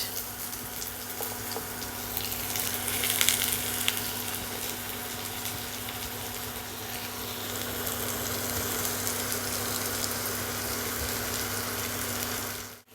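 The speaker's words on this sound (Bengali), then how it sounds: "তেল গরম হয়ে গেছে আমি এখানে দিয়ে দিচ্ছি কুচনো পেঁয়াজ" Chopped onions hit hot oil in a pan and give off a loud, steady, hissing sizzle that runs unbroken for the whole stretch, with no voices.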